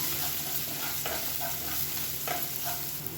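Ground pepper, cumin and thoothuvalai leaf paste sauté in hot oil, giving a steady sizzle with intermittent scraping stirs of a spoon against the pan. No one speaks.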